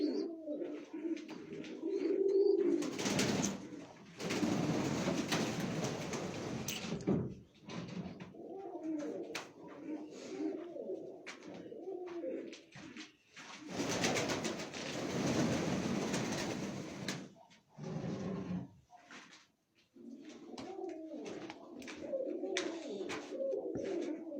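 Mykolaiv breed pigeons in Mykolaiv Oblast, Ukraine, softly cooing in low repeated murmurs, interrupted twice by long loud rumbling bursts of a passing train nearby.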